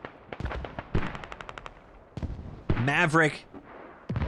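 Mortar fire and gunfire in an infantry video game battle with insurgents using propane mortars, including a .50 cal, sound as bursts of rapid shots and booms, partly under a spoken voice.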